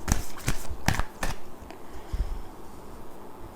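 A deck of oracle cards is shuffled for a tarot reading, with several sharp riffling bursts up front that taper into softer card rustling, close and clear with no voice.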